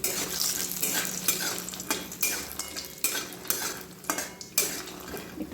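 Bori, small sun-dried lentil dumplings, fry in a kadai with bubbling sizzle, punctuated by repeated scraping and clinking of a metal spatula against the pan, close and busy.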